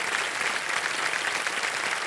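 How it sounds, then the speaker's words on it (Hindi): Studio audience applauding on the Kaun Banega Crorepati game show set, a dense, steady burst of clapping filling the whole moment without a break. "ताली बज जाए इनके लिए।"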